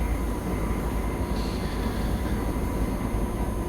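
A BR 185 Traxx 2 electric freight locomotive in Train Simulator Classic runs with a steady, dense rumble and hum, continuous and unbroken throughout with no talk.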